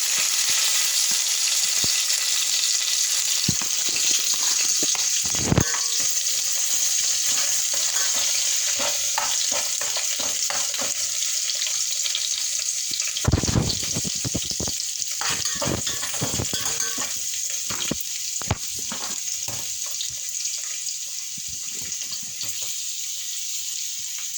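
Ginger, curry leaves, onions and green chillies frying in oil for chicken sukka, a steady close hiss with occasional sharp clatters and stirring knocks in the pan.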